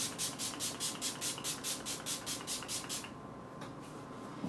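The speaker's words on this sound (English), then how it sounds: "So I'm gonna set this with some spray." A makeup setting spray bottle gives about twelve rapid, evenly spaced hissing pumps in a steady rhythm, close to the microphone, then stops.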